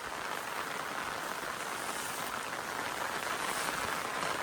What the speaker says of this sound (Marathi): पावसानं लय जोर केला